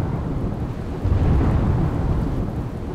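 Heavy downpour and thunder over Pipaliya village in Gujarat, a dense, loud roar of rain with a deep rumbling swell of thunder midway, no voices.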